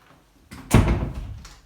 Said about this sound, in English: We close the door of the cattery.